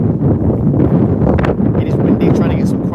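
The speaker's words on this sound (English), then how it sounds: "It is windy" Gusty wind buffets the microphone at Birmingham Airport, a dense, close, low roar that never lets up. A voice briefly surfaces under it.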